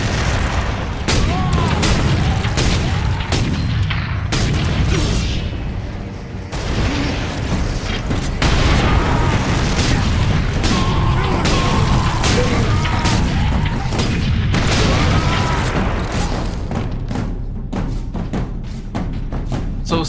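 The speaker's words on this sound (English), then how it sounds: "So stuff is exploding" Explosions in Warhammer 40K Space Marine, a steady run of loud booms and bursts over rumbling mechanical battle noise, with a voice speaking intermittently over the chaos.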